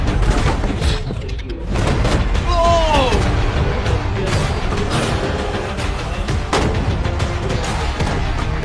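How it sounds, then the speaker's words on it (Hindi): Repeated gunshots fired at a container in a money-saving game, dense broadband bursts over about nine seconds, with voices talking throughout. "पहला शॉट फायर करो"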